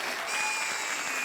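Dense, continuous clapping from a comedy show studio audience, loud and unbroken for a brief moment.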